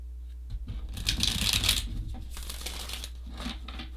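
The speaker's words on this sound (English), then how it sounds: "One more shuffle." A deck of tarot cards is shuffled by hand: a close riffling, flapping burst of cards, followed by softer slides and taps as the deck settles.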